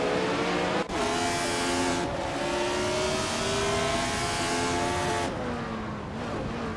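Race cars, among them a 1976 Tyrrell 007, scream around a track in a racing video game, engines holding high sustained revs with gear-shift drops and passing cars under a constant loud roar.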